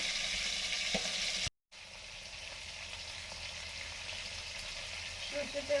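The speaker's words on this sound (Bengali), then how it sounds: "মাছগুলো হালকা ভেজে তুলে নিচ্ছি" Katla fish head frying in hot oil in a home kitchen, a steady broadband sizzle that cuts out for a moment and then resumes, with a few faint clinks near the end.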